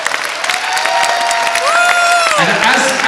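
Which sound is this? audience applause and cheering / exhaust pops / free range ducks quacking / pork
audience applause and cheering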